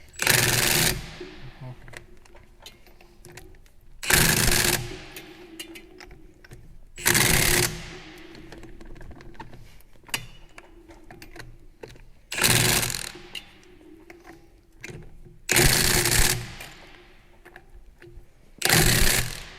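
Impact wrench tightening the axle nuts on an ATC stacker trailer fitted with Dexter axles, six loud rattling bursts of about a second each, evenly spaced with quiet gaps between them.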